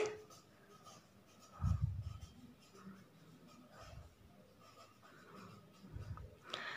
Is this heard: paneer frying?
no